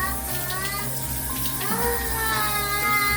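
Shower water runs steadily in a home bathroom, a continuous close hiss of spray with faint voices and background sounds beneath it.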